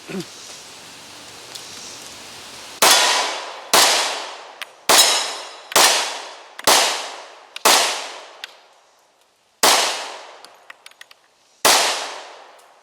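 A Glock 29 10mm pistol fires about nine loud, sharp shots at an outdoor range, spaced roughly a second apart with a brief pause midway, each followed by a decaying ring.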